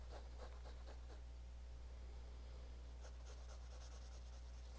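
A pencil sketches on paper close up, with quick scratchy strokes in bursts and pauses over a steady low hum, faint and alone without talking.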